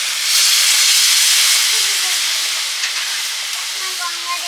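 Water poured into a hot pan of potato curry, giving a loud rushing steam hiss that swells early and then settles into a steady sizzle.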